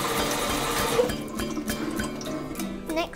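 Cold water runs from a tap as sushi rice is rinsed in a sieve. A steady close splash and trickle carries on with small irregular drips and knocks.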